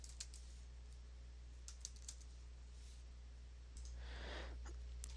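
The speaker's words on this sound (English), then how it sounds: "We'll just type in sign up now" Someone types a short phrase on a computer keyboard. Faint, quick key clicks come in a few small bursts over a quiet room hum, and a soft shuffle follows near the end.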